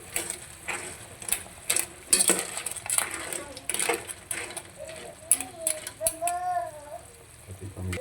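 Clam soup stirred in a cooking pot, metallic scraping and clinking of a utensil against the pot in irregular bursts, with someone speaking briefly over it.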